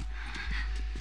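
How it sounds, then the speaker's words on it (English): A horse in The Last of Us video game trots in a brief burst of clip-clopping hooves. The quick rhythm is close and fairly loud over a constant low background hum. "Just get the horse."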